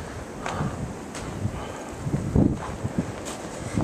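Blizzard wind drives blowing snow past a residential street in a steady, fairly quiet broadband rush with soft gusts and faint rustling, and no voices.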